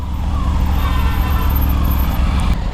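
A Triumph Tiger 900 GT motorcycle ridden in sports mode, its engine a loud, steady low drone with rushing wind noise, close and continuous.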